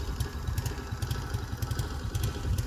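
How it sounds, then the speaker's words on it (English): A moped engine idles steadily late at night during repairs, a low rumbling putter with continuous uneven pulsing and occasional higher clicks and rattles, close and fairly loud with no voices. "Time to get the fucking moped to go."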